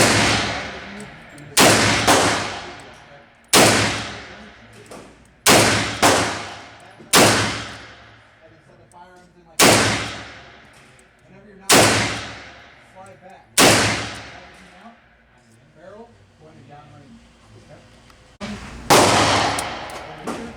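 A Taurus Model 608 eight-round .357 Magnum revolver fires about a dozen loud, sharp shots outdoors at uneven intervals, each with a ringing echo tail and brief pauses between groups.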